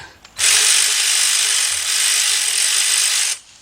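A cordless ratchet spins a 13mm socket on an engine bolt during timing cover work on a Chrysler Sebring or Dodge Avenger, making one loud, close, continuous whirring buzz of about three seconds that starts and stops abruptly.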